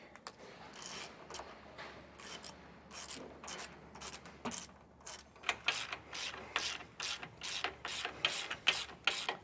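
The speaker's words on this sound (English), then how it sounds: "Now using a 3/4 inch socket and wrench, we are going to snug these down real quick." A 3/4 inch socket wrench ratchets bolts snug while installing a rear anti-sway bar on a Thor motorhome, giving quick bursts of close, crisp clicking strokes that grow louder and denser toward the end, with no talk.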